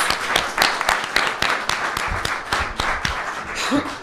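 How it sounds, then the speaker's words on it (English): A small audience claps for a guest at the close of a talk-show segment, a steady patter of several pairs of hands at close range, with faint laughter near the end. "Once again, round of applause for Mr. Lee from Stonewall Democrats"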